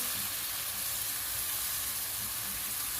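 Masala fries in a pan, giving a steady, loud, close sizzle with a constant hiss while it is stirred, and no voices.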